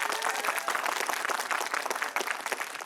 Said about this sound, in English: So on the count of three, give me a big loud clap.